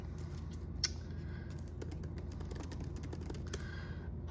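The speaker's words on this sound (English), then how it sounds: "You start typing." Fingers tap quickly on a computer keyboard, giving close, quiet, irregular clicks over low room hum.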